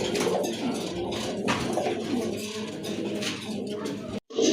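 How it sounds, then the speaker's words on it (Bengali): Rajgolla pigeons coo in low, throaty rolls from close by, several birds overlapping continuously with faint room noise, ending in a brief gap. "হিউজ সাইজের একটা রাজগোল্লা কবুতরের নর আছে এখানে"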